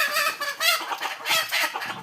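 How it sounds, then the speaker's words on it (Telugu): Country hens and other native chickens on a large farm cluck repeatedly in overlapping bursts, close and fairly loud, with several birds calling at once. "రకరకాల నాటుకోళ్ళు, చీమకోళ్ళు, నాటుకోళ్ళు అన్నీ ఉన్నాయి గైస్."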